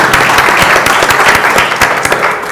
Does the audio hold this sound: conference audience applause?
yes